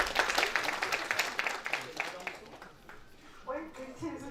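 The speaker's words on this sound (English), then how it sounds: "Big round of applause." Applause from a conference audience at a civic dialogue event, a dense patter of clapping that thins and fades into murmuring voices toward the end.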